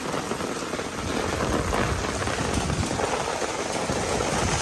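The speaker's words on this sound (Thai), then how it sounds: "ตอนนี้ฝนตกโคตรแรง ฝนตกมาเป็นแรงนะ" A violent rainstorm pours down hard and close, a dense, steady roaring hiss with low rumbling underneath that grows slightly heavier after the first second, no voices.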